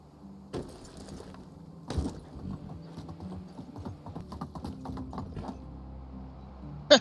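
Hooves of a horse ridden in the medieval survival game Medieval Dynasty, a steady, fairly close clip-clop with faint jingling tack, over quiet ambient background.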